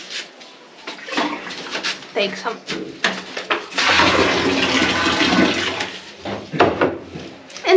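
Water is drawn and splashed from a water tank in an Indian village house, a loud close gush and pour lasting a few seconds, with clunks and a person talking around it.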